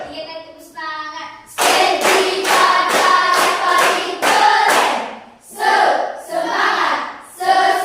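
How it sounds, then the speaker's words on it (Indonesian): Students in a classroom do rhythmic spirit claps in counted bursts, loud close handclaps mixed with their voices chanting along, with short pauses between rounds. "1 kali tepuk semangat. 2 kali tepuk semangat. 3 kali tepuk semangat."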